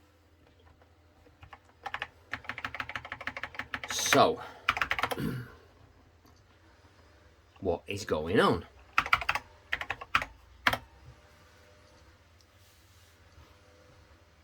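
Rapid bursts of typing on a Tatung Einstein computer keyboard, clattering in quick runs with pauses between, and a brief spoken question in the middle.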